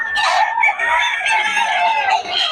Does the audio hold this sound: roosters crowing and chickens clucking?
yes